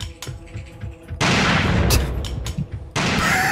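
Heavy bursts of gunfire and blasts in the video game Alekhine's Gun, loud rapid shots with booming impacts in two sustained volleys after a quieter opening.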